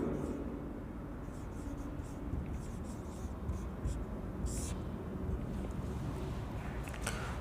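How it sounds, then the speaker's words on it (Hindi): Chalk or marker scratches steadily across a board while a solution is written out in a college mathematics lecture, a dense close scraping texture with faint background noise and no clear speech. "तो मैं लिखता हूं यहां सॉल्यूशन।"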